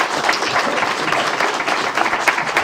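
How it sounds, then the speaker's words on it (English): Applause at a Temple Terrace city council meeting, a dense, continuous round of clapping from the room that stays steady and fairly loud throughout. "Let's give her a round of applause."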